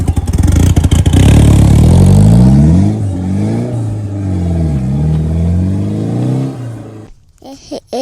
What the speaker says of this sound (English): give it gas, go all the way to the top